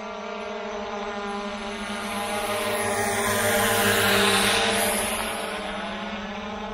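Visuo K3 drone circling overhead in orbit mode, a steady buzzing propeller whine that swells louder as it passes closest, then eases away again.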